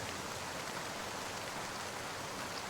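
Light rain falls at night on a village path, heard as a dense, even hiss of drops that holds steady throughout with no voices.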